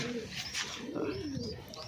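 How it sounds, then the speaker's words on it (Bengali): A domestic pigeon coos in a home coop where pairs are nesting on eggs, with a few soft, rolling coos close by and faint chirps from other birds behind, no talking. "আর এই যে এইটা হচ্ছে আমার ঘরের কবুতর"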